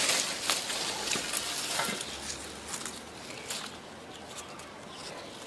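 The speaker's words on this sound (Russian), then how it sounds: "после добавления древесной золы мне, конечно, надо опять хорошенечко взрыхлить и перемешать" Garden soil being loosened and mixed with wood ash around heuchera plantings in a flower bed, a soft gritty scraping and crumbling with irregular strokes, close and fairly quiet, no talking.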